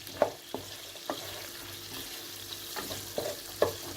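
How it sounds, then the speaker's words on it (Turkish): A saucy mixture of bulgur pilaf with pepper paste is stirred in a pan, a soft background sizzle punctuated by scattered spoon knocks and scrapes at uneven intervals, fairly quiet and without voices. "harmanladım karıştırıyorum"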